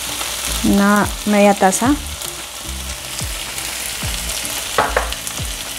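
Tomato purée sizzles and fries in a hot pan for a Veracruz-style fish dish, crackling close and steady while someone speaks briefly over it.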